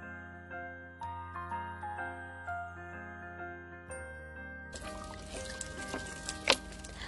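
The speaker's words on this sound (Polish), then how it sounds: "kiedy wciśniemy strzykawkę, woda zacznie lecieć" Water trickles steadily from a homemade camping water dispenser built with a syringe, glue and electrical tape, starting partway through with a soft, continuous hiss beneath tinkling background music.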